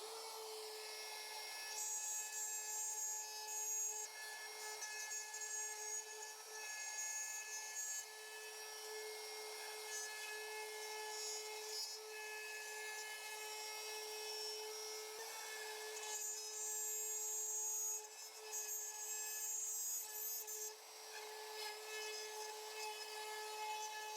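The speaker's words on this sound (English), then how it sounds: "I always make sure to hold down the plunge router until it's completely stopped" A plunge router cuts a cedar fence picket, producing a continuous high-pitched whine with a steady tone and a bright rasping edge that holds for the whole span, close and loud, with no talking.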